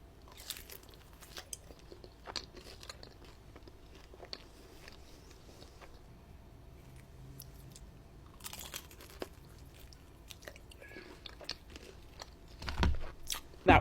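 Someone eating Olive Garden lasagna frita with marinara and Alfredo sauce, with close, soft crunchy bites and chewing in a quiet room, growing louder near the end.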